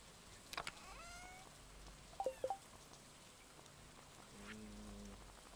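Soft, steady rainfall in the farming game Stardew Valley, faint and constant, with a few brief game chimes and blips over it and no talking.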